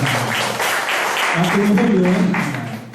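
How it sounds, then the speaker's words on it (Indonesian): A church congregation applauds during a worship service, a dense wash of clapping with voices talking over it in the middle. "Ayo tepuk tangan untuk para itu"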